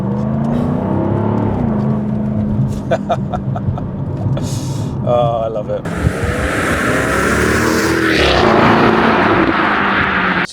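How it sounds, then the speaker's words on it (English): A Jaguar F-Type's 5-litre supercharged V8 roars as it accelerates with the exhaust valve open, a loud droning engine that climbs through a gear change and keeps building, while a voice speaks briefly over it. "5-litre supercharged V8s, absolutely incredible. They sound mwah."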